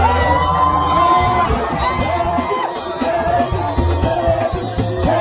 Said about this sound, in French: à minuit pile, nous allons crier Jésus